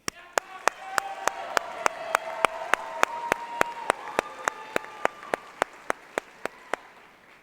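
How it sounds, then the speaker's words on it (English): A steady series of sharp, evenly spaced claps at a state agricultural education convention session runs throughout over a faint background murmur and tones, more like rhythmic clapping than a full crowd applause. "please help me give a huge round of applause"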